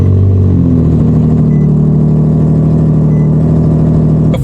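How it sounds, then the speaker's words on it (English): A 2023 Nissan Z Nismo engine fires up from cold, a brief starter burst giving way to a loud, steady high idle with a rich, droning exhaust that holds close and constant throughout. "Wait for it, cold start."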